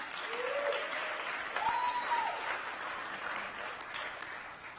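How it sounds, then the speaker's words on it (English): An awards-event audience applauds a director at a Juneteenth Living Legends ceremony, steady clapping from a sizable crowd filling the room for about five seconds, with a brief whoop near the start. "Let's give Director Stowe a round of applause."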